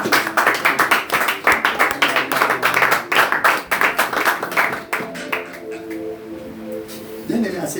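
A church congregation at a seminar bursts into rhythmic clapping and acclamation, dense handclaps with voices cheering over them, thinning after about five seconds as a lone voice lingers and the clapping fades.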